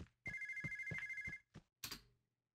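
A telephone rings in the Horsez: Ranch Rescue video game, a single electronic ring burst followed by a couple of short clicks, fairly faint and alone.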